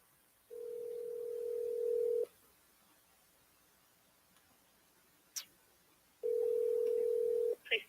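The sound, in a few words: telephone dial tone while calling the police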